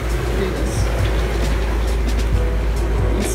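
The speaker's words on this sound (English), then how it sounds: "We're running our engine to do this." A sailboat's engine runs at sea in calm, windless conditions, making a steady low rumbling drone with faint knocks and clatter on top.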